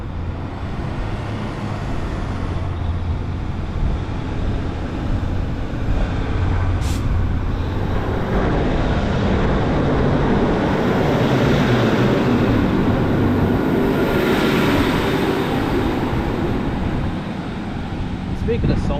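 A Class 156 diesel multiple unit pulls out of Eaglescliffe station bound for Saltburn, its engine giving a continuous low rumble that builds and holds steady at close range, with people talking over it.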